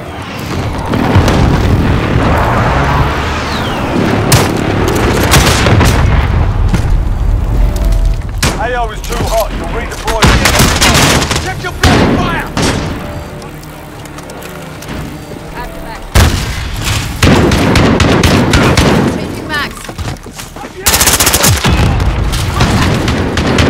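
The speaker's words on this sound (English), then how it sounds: "Friendly precision airstrike inbound." Precision airstrike explosions in Call of Duty Modern Warfare: a long stretch of heavy booms and rolling blasts mixed with gunfire bursts, loud and close, with in-game voices speaking over parts of it.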